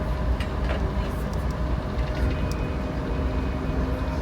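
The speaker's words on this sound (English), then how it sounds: "That train is going in the back every time I'm talking." A train rumbles steadily in the distance, a continuous low roar with faint rail noise, no talking over it.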